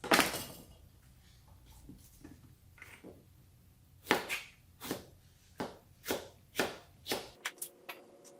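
A knife chops red chili peppers on a cutting board in a string of crisp, close cuts, irregular at first and then in a steadier rhythm.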